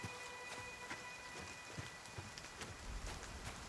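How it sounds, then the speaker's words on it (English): Light rain in the video game Nightingale patters steadily, with scattered sharper drop taps over a soft continuous wash and no talking. "This isn't heavy rain yet."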